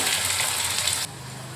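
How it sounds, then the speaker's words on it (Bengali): Cubed paneer sizzling in a little hot oil in a wok, a steady close hiss of frying that drops sharply quieter near the end, with no talking. "আর এই তেলের মধ্যে ছেড়ে দেব এখন এই কিউব করে নেওয়া পনিরগুলোকে"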